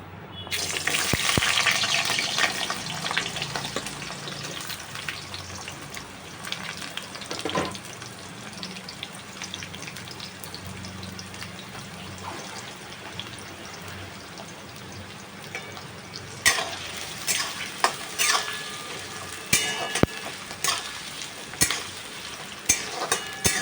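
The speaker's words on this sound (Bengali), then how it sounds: "এবার আমি আলু পেঁয়াজটা ভেজে নিচ্ছি।" Steady sizzling of potatoes and onions frying in hot oil, with occasional stirring scrapes and clatters growing more frequent toward the end.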